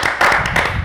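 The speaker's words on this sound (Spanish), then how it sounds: "Un aplauso para él, hombre." Audience clapping in a brief burst, a quick cluster of close, loud hand claps lasting under a second.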